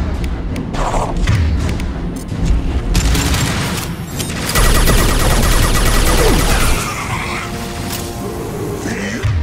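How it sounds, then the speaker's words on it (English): Heavy booms and concussive blasts from the concussive shot ability in Mass Effect 2 erupt amid loud combat gunfire, with surges of impacts and a brief faint voice in the mix. "Concussive shot ready."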